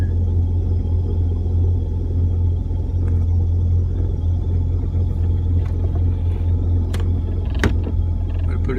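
1999 Jeep engine with a knocking, roaring fault, heard as a loud continuous low rumble with a steady drone throughout and a few faint ticks and clicks over it, close by.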